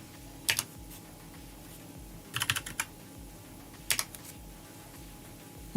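Short bursts of clicking keystrokes on a computer keyboard come in three quick clusters separated by pauses, close and clear over a low hum.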